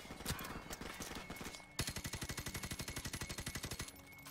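Rapid automatic gunfire in Call of Duty Modern Warfare, a scattered volley first, then a steady, loud burst of evenly spaced shots lasting about two seconds.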